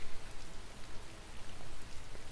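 Steady rain falls in the Tales of Vesperia video game, a dense, even hiss of many drops hitting surfaces, close and constant throughout the short stretch with no voices.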